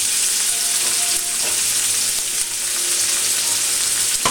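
Salmon sizzling and frying in a pan as the sauce reduces, a steady bright crackle and hiss running loud and close throughout with no talk.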